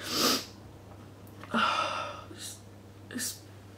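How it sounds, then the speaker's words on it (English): A sharp sneeze bursts out up close, followed by a breathy exhale and a couple of smaller sniffs or snorts. "I'm gonna sneeze"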